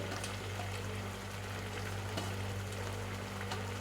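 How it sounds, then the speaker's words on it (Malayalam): Crushed coconut and garlic go into a simmering fish curry, giving a steady, close sizzle and bubbling with a low constant hum beneath and no voices. "തേങ്ങയും വെളുത്തുള്ളിയും കൂടി ചതച്ചതും കൂടി ഇട്ട് കൊടുക്കുന്നുണ്ട്"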